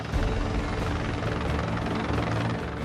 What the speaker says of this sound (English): the victim and paramedic dangle 185 feet below the helicopter